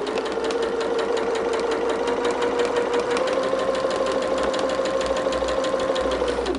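A sewing machine runs one continuous seam through thick layers of quilting fabric, a steady close mechanical whir that holds evenly for several seconds before stopping.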